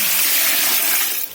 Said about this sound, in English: I'm just going to cover these with water